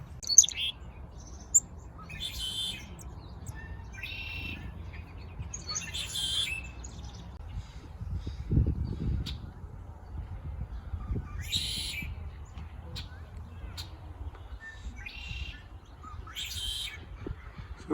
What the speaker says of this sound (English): So this is red-winged blackbird, song and call.